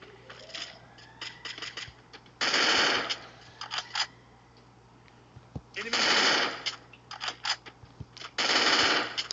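Automatic gunfire from the video game Free Fire rattles out in three long bursts and several short volleys, loud and close, with quieter stretches of game sound between them.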